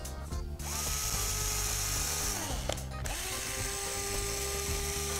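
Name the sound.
power drill drilling pilot hole in wood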